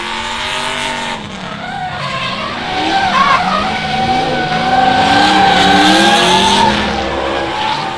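A drift car at Meremere Drift Park spins out during a knockout competition, its tires screeching in long wavering squeals over the revving engine, loud and close for several seconds.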